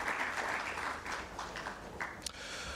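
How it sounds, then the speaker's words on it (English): Applause from an audience at a press conference for the Global Entrepreneurship Festival Ghana, a steady wash of clapping heard at a moderate distance throughout, with no speech over it. "Shall we do a big round of applause for her?"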